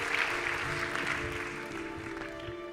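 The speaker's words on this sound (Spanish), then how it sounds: "le damos un nuevo aplauso a Jorge Olcina" An audience at the Congreso Futuro 2023 conference applauds, a dense, steady patter of clapping across the hall that fades slightly toward the end, with no speech.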